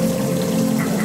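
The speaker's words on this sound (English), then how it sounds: "I think he's enjoying the splash from this little waterfall over here." Steady splashing water from a small waterfall in an aquarium, spilling nonstop, loud and close with a constant rushing texture.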